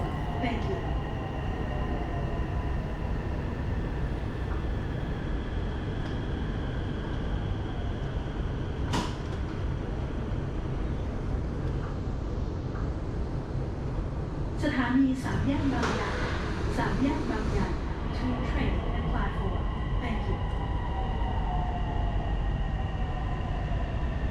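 Steady rumble of a Purple Line electric metro train in motion in Nonthaburi, Thailand, with a few clanks and a burst of rattling midway; a voice speaks over it.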